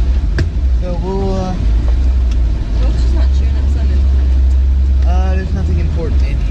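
Inside a moving car on a hot day, a steady low engine and road rumble runs throughout, with bursts of puppy-like whining or voices around the one- and five-second marks.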